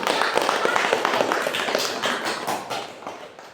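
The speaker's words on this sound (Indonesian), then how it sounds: "Oke, beri aplaus." A classroom audience claps after a student group presentation, a dense wash of many hands at moderate volume that slowly thins out over a few seconds.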